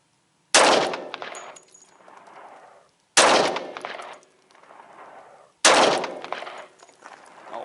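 Three loud, sharp gunshots from an M&P 45 2.0 full-size pistol firing .45 Auto 155gr hollow-point frangible rounds, spaced about two and a half seconds apart, each with a short echoing tail.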